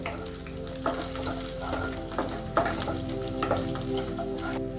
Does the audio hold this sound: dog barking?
no